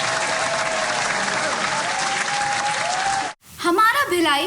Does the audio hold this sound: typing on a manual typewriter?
no